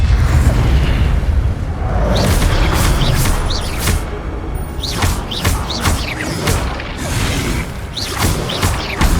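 The Incendio fire spell in Hogwarts Legacy erupts in repeated loud booming bursts and crackling whooshes, several blasts in quick succession amid continuous rumbling combat noise.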